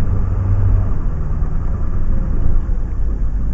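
A fire engine's motor runs at a grass fire, a loud, close, steady idling rumble with a low, throbbing vibration and no pauses.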